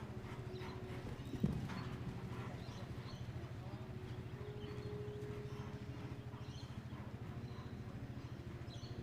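Horse hooves clip-clop in a steady, rapid rhythm during an extended canter in a dressage test by the sea, continuous and moderately close with one sharp knock near the start.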